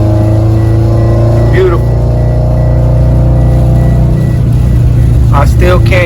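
A 2013 Scion FR-S with a faulty ABS drives with a loud, steady engine drone and rising tone as it picks up speed, road noise beneath and someone speaking briefly over it.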